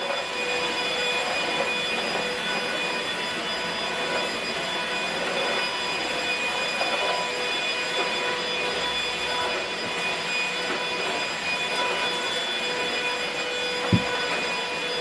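A Goodmans 2-in-1 cordless vacuum cleaner runs with a steady whirring drone and a thin high whine, continuous and close for the whole stretch, with one faint knock near the end and no voices.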